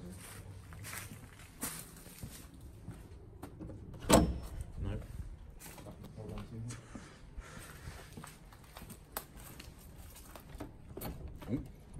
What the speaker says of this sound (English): Start trying doors.